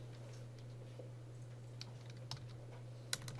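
Keys on a computer keyboard tapped while writing pseudocode in a text editor, a sparse run of light clicks with a few sharper strokes, close but faint over a steady electrical hum.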